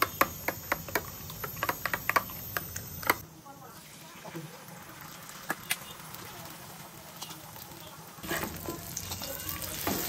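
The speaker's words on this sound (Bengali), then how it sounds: "ডিম ভাজি হবে এখন, খিচুড়ির সাথে ডিম ভাজি।" Eggs fry in a pan for khichuri in a home kitchen. A string of sharp clicks and taps comes first, then a quieter stretch, and a broad, steady hiss rises near the end.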